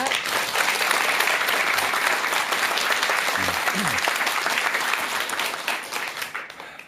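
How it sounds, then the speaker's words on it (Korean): Warm audience applause from a seated crowd welcoming a monk to the stage for a lecture on international relief work, steady dense clapping that holds strong and fades slightly at the end, with a brief voice underneath. "지금부터 따뜻한 박수와 함께 스님의 강연 청해 듣도록 하겠습니다"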